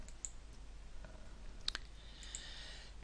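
A computer mouse clicks a few times in a quiet room, each click short, sharp and faint, spaced irregularly over a low steady hum with no one talking.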